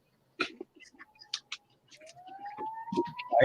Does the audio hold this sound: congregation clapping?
no